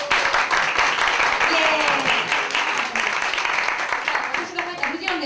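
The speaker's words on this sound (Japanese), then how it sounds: "1 回だけじゃなくていっぱい拍手してください" An audience at a live stage show claps enthusiastically in a dense, sustained burst of applause, with scattered cheers and voices mixed in.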